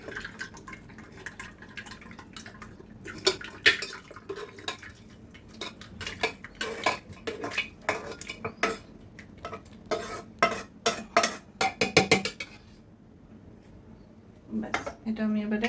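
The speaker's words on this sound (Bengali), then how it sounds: "এবার আমি এটা কুকারে ঢেলে দিচ্ছি।" A thick mutton curry is scraped and poured from a pan into a pressure cooker. A spoon scrapes and clinks against the metal in quick, uneven strokes, with a few wet drips, all fairly quiet and close.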